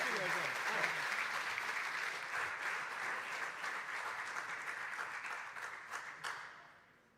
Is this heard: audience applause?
yes